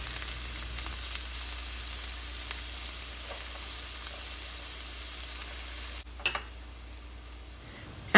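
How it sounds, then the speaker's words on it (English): Chopped onion and garlic cloves sautéing in olive oil in a large sauté pan, a steady low sizzle with faint ticks and occasional stirring, dropping quieter near the end after a brief clatter. "In my large sauté pan, I skimmed it with a good amount of olive oil and then added the other half of my large chopped onion"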